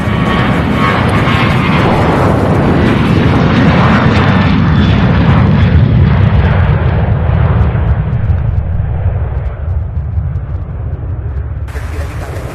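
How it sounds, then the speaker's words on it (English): A passenger airplane takes off at Louisville International Airport, its engines a loud, close, continuous roar that slowly fades and thins as it climbs away, with no voices. "a couple of passenger takeoffs in between all of the UPS madness"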